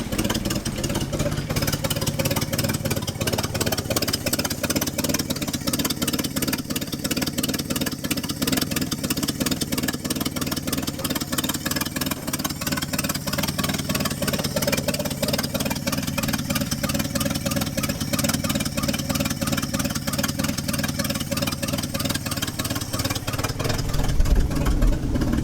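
A Chevy C10 pickup that sat for decades idles after its first start, the engine chugging in an even, steady rumble that runs on continuously, with a slight swell near the end.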